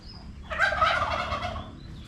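A single bird's rapid gobbling call rises and falls over a quiet outdoor background among domestic ducks and chickens in Tarlac City, Philippines, fairly close.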